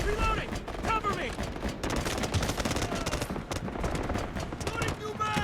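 Dense bursts of automatic rifle fire and single shots crackle in a Delta Force Mobile attack-and-defend match, rapid and continuous, with shouted voices in the mix.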